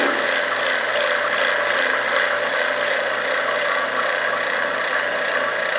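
A vacuum pump runs steadily and loudly during wood stabilization with resin, a constant mechanical whir with a faint rapid rattling pulse, no pauses.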